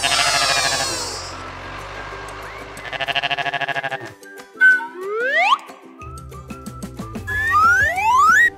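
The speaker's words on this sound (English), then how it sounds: "Here comes the goats." Bleating goats open with a loud, quavering call followed by another, then give way to sliding cartoonish effects and a low hum in a toy zoo diorama.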